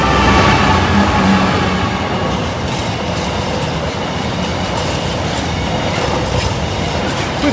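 A Freightliner freight train from Leeds to Felixstowe passes a high street level crossing, loud and close. Its wagons rumble and clatter continuously over the rails, with faint wheel squeal.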